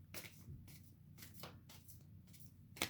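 Tarot cards being shuffled by hand, soft repeated riffling and sliding swishes with a sharper snap at the end, quiet and close.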